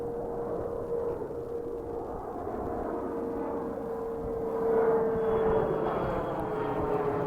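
A United Airlines airliner flies overhead at Dane County Regional Airport, a steady broad engine roar with a faint whine that swells slightly as it passes close above.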